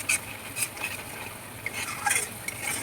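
Spices frying in oil in a pan for a Bengali fish dish, stirred with a utensil that gives a few distinct scrapes and clinks against a low, steady sizzle, close and without talk.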